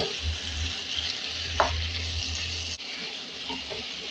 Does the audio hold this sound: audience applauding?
no